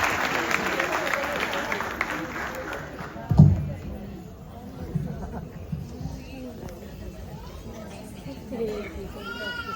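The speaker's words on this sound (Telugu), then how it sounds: "గట్టిగా చప్పట్లు కొట్టండి ప్లీజ్" Audience clapping loudly at a children's Christmas church program, a dense burst at the start that fades after a few seconds, with a single thump and voices continuing beneath.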